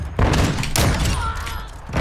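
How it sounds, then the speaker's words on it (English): Sniper rifle fire in Modern Warfare 2: two heavy booming shots about half a second apart, each with a rumbling tail, then a third shot starting at the very end, loud and close. "I pulled out a sniper"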